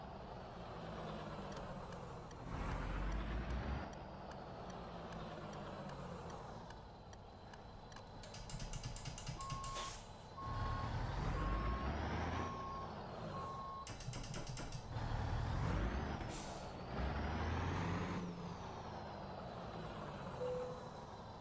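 In American Truck Simulator, a truck idles and rumbles while short bursts of broadband air brake hiss break through twice, alongside a steady electronic beep and the low drone of the engine.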